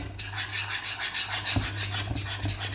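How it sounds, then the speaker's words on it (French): A utensil scrapes and rubs across the bottom of a pan while butter caramel is stirred, making repeated rasping strokes in an uneven rhythm, close and fairly quiet, with a low steady hum underneath. "Vous pouvez bien mélanger. On assure le fond."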